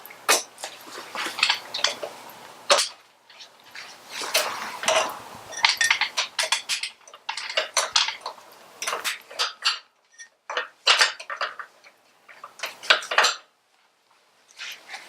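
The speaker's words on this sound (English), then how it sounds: "Next thing would be to take this cotter pin out of the rear axle." Metal clinks and taps as a cotter pin is pried out of a Harley-Davidson motorcycle rear axle: irregular clusters of small close metallic ticks and scrapes with short pauses, and no talk.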